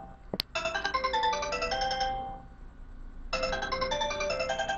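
A cell phone ringtone plays a bright, repeating melodic pattern in two bursts separated by a short pause, loud and close, with a brief click just before it starts.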